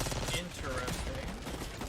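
Shotgun fire in Call of Duty Black Ops 6 sounds as dense, rapid blasts mixed with game effects and music, continuous and loud throughout, under voices.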